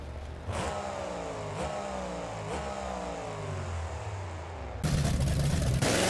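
A classic Chevrolet monster truck in BeamNG Drive revs its engine repeatedly, each rising pitch sweep climbing and dropping in a looping rhythm, then settles into a harsher, louder steady roar near the end.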